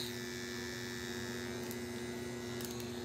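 A coil tattoo machine running with an Emalia cartridge, a steady electric buzzing hum with a faint mechanical whine, continuous and fairly quiet, with no talking.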